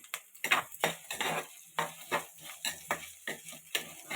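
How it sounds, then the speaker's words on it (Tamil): Chopped ginger and garlic sautéed in a pan for a meat curry, with a steady sizzle broken by repeated scraping stirs of a spoon against the pan, close and moderately loud, no talking. "இஞ்சி பூண்டு பேஸ்டாக போடல ஃப்ரெண்ட்ஸ் இப்படியே அரிஞ்சு போட்டுருக்கேன் நல்லா சுருளை வதக்கணும்"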